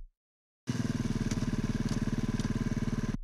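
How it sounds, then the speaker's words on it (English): A motorcycle engine in a Unity oil change simulation game starts abruptly after silence and settles into a loud, even, rapidly pulsing idle that runs steadily to the end. "Now to start the motorcycle, turn on the engine."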